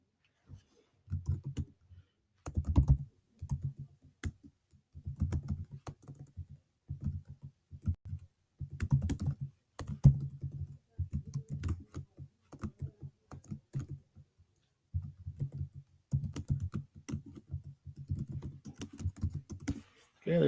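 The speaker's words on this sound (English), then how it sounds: "I'm going to type a sentence about my favorite restaurant." Someone types a sentence on a computer keyboard, giving close, crisp key clicks in uneven bursts with short pauses between runs.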